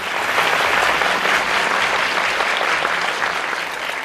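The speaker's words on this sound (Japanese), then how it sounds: "今一度大きな拍手をお願いいたします。" Audience at a film premiere stage greeting in a Shinjuku cinema applauding the director and cast, a loud, sustained, even wall of clapping from a large crowd with no break.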